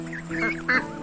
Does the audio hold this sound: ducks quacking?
yes